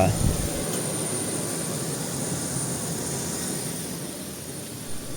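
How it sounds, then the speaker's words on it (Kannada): Loud, steady roar of an airliner's jet engine close by on a Bengaluru to Goa flight, a constant broad rumble and whine that barely changes over several seconds. "ಏನು ಇಂಜಿನ್ ಸೌಂಡ್ ಗುರು ಇಷ್ಟು ಜೋರಾಗಿ"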